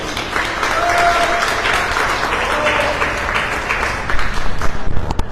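An audience gives loud, sustained applause for the speakers at the close of a panel discussion, a steady wash of clapping filling the room.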